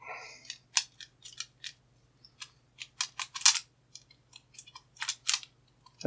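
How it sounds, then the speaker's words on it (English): A GERDA HSS 632Z disc detainer padlock is worked closed, giving a series of sharp, close metallic clicks and scrapes in irregular bursts over a faint steady hum. "So let me lock it back up."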